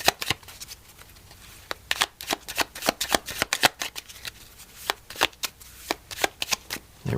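A deck of Language of Flowers oracle cards being shuffled for a tarot reading, giving a rapid run of crisp riffling snaps and soft slides, close and fairly quiet, with no talking.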